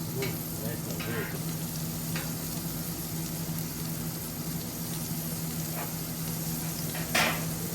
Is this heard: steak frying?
yes